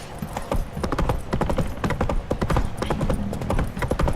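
The horse Roach from The Witcher 3 trotting, a quick steady rhythm of hooves clopping close and clear, with faint game ambience underneath.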